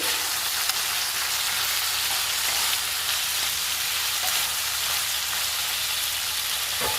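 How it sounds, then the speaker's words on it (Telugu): Gongura and coriander chutney ingredients sizzle and fry in a pan while being stirred, a dense, even hiss like steady rain that runs unbroken throughout, close and loud, with no voice. "ఇలా కలుపుకుంటూ ఫ్రై చేసుకోవాలండి"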